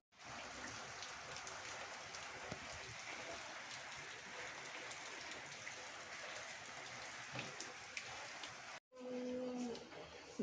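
Steady rain patters and hisses without a break, then cuts out briefly near the end before a low hum takes over.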